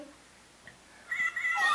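A single short cat meow, faint and close, rises at the end of a brief quiet moment.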